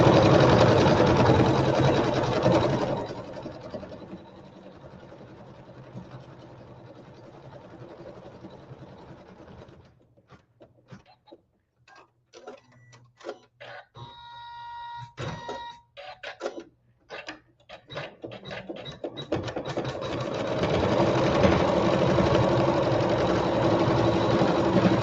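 A quilting sewing machine stitching placement lines for blossom appliqués runs in bursts: steady whirring at the start and end, with a quieter middle of sharp rhythmic needle clicks and mechanical clatter.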